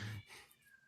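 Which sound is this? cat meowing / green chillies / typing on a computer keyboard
cat meowing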